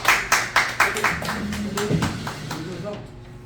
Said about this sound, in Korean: 박수로 만드시겠습니다